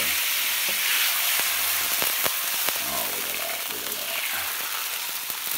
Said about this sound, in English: Going to add a little of that mushroom jus to it.